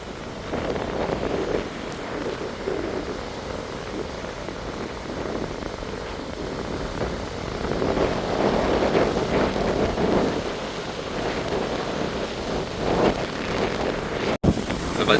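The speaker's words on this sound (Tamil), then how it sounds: "இப்போ நல்லா காற்று வீசுது. இங்கே இந்த இடத்துல நல்லா காற்று வீசுது." Strong wind buffets the microphone on a rough, churning sea shore, with a steady loud roar of wind and surf that swells and eases throughout, plus a sharp knock near the end and no talk.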